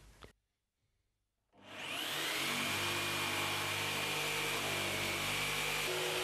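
Bosch GST 90 BE jigsaw cutting with pendulum orbital action, starting after a brief quiet pause into a loud, steady buzzing saw noise that continues to the end.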